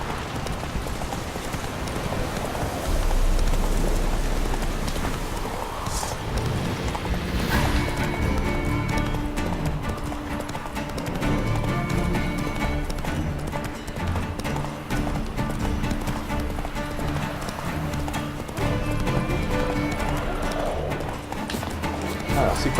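Horse hooves galloping in The Witcher 3: Wild Hunt, rhythmic clip-clop of a ridden horse on open ground in Velen, ongoing under game music and effects, with someone talking over it.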